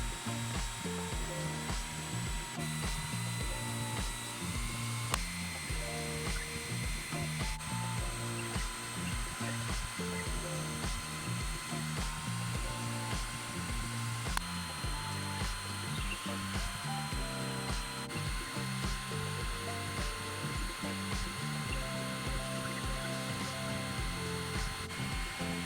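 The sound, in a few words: belt sander shaping apple wood slingshot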